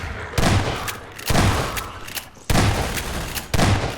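Gunfire during combat with Combine soldiers in Half-Life 2 Episode 2 comes as four heavy booming shots spaced about a second apart. Each has a sharp attack and a rumbling tail, loud and close.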